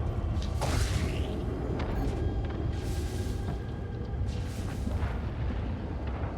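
Muffled, distant booms roll through a space video game as a Titan explodes. A low, continuous rumble runs throughout, with a few sharper bursts scattered across it and no voices.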